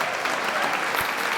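A small crowd cheering and applauding, a continuous busy patter of clapping mixed with crowd noise, loud and close, lasting the full moment without a break.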